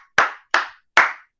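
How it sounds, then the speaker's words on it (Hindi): Three sharp hand claps ring out close and loud in an evenly spaced rhythm, each with a short room decay, with no talking. "तो टॉप थ्री के लिए ताली बजाने वाला हूं मैं"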